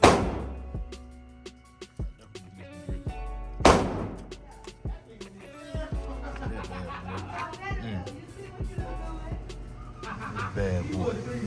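Glock handguns fire at a shooting range, two sharp, loud reports standing out early, then a scatter of smaller cracks and knocks under ongoing chatter from people nearby.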